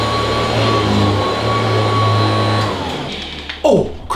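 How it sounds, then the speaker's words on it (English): A household vacuum cleaner runs loud and close with a steady droning whine, then winds down near the end before a short bump and rustle. "Seriously? Gonna vacuum?"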